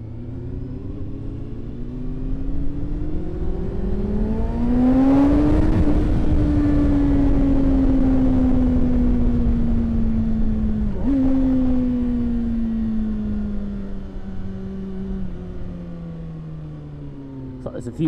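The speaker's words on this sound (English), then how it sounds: "A few bikes there, couple of bikes." Motorcycles on a group charity toy run ride past with a rumbling engine drone that rises in pitch as they approach and close by, then fades as they move away.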